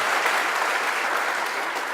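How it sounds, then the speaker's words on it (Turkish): Audience of university students applauding in a studio, a dense, steady wash of clapping held for a couple of seconds. "Alkışların şiddette özlendiğimizi gösteriyor"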